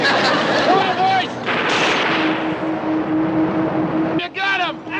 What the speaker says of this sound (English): Few firecrackers stuck in the ground